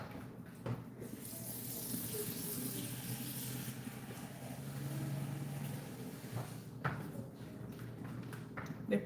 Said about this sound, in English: The plantain needs a little bit of water, so I'll add in water here so that it doesn't dry up and burn.